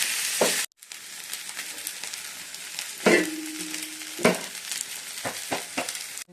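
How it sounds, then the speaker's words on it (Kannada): Okra and ivy gourd stir-frying in a hot tempering, a steady sizzle with scraping stirs and a few louder clanks of the spoon against the pan. "ಮಿಕ್ಸ್ ಮಾಡ್ಕೊಂಡು ಚೆನ್ನಾಗಿ ಫ್ರೈ ಮಾಡೋಣ."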